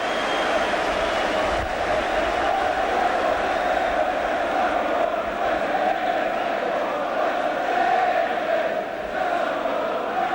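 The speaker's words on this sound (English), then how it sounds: "the Swindon crowd are singing, there's only one Fraser Digby" A Swindon Town football crowd at a 1987 Third Division play-off final replay against Gillingham sings a sustained chant for goalkeeper Fraser Digby, a steady, dense roar of massed voices that never lets up.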